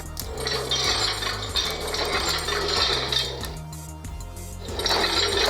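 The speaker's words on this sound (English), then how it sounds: "If you do move the individual fingers, you will receive the sound effects." Marvel Legends Infinity Gauntlet electronic fist toy triggering its sound effects as individual fingers move, a dense continuous crackling, whooshing electronic burst with a brief dip midway before swelling again, loud and close with no talking.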